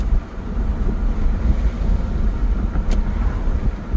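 A 2002 Acura TL Type S with a faulty transmission accelerates up through the gears, giving off a steady, close engine and road drone inside the cabin with a brief shift change.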